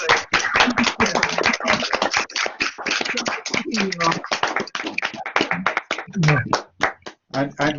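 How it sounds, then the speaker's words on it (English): A small audience of about sixty people at a gardening science talk breaks into brisk clapping, the rapid claps running almost continuously while a voice speaks briefly over them. "So if we could just clap and say thanks very much"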